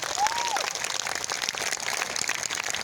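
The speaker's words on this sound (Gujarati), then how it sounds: "બંને હાથ ઊંચા કરીને જોરદાર તાળીઓથી સન્માનીય" An audience at a Gujarati village drama gathering applauds, a dense continuous clatter of many hands clapping at mid distance, with a brief voice rising over it near the start.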